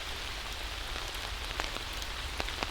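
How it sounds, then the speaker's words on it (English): Steady rain falls in a wooded park, a continuous broadband hiss with scattered louder drops tapping nearby surfaces, fairly faint and even throughout with no voices. "Oh, it is definitely raining,"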